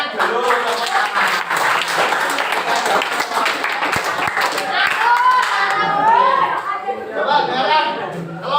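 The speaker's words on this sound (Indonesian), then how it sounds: "Tepuk tangan dulu. Tepuk tangan." A group of children and a teacher in a classroom clap their hands in a quick, uneven burst of close claps, with excited chatter and children's voices mixed in throughout.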